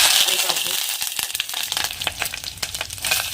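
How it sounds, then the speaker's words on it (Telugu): Mustard and cumin tempering seeds crackle and sizzle in hot oil, sharp popping bursts scattered irregularly over a hissing bed, close by. "2 టేబుల్ స్పూన్స్ ఆఫ్ ఆయిల్ వేసుకున్నాను. దాంట్లో ఒక స్పూన్ పోపు గింజలు వేసుకుంటున్నాను"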